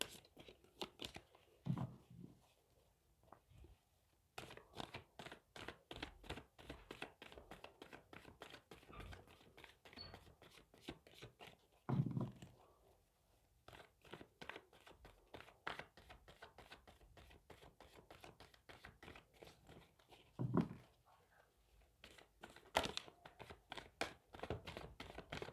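Tarot cards being shuffled by hand in rapid bursts of crisp riffling clicks and flutters, separated by short pauses and occasional louder taps as the deck is squared, close and fairly quiet.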